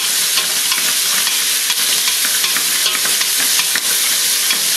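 Chopped onions sauté in a hot pan, not yet browned, giving off a steady, loud, close sizzle with faint scraping from stirring and no voices.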